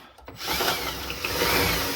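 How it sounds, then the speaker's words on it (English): Drill bit cutting through a part on a 1992 Mustang GT, a steady grinding, rubbing whir that starts after a brief quieter moment and holds loud and close to the end. "Now we can drill this off."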